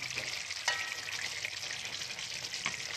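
Rice being stirred with spices in a pan for a coconut-milk fish pilau, giving a steady frying sizzle with faint scraping and a few soft knocks, close and continuous with no talking.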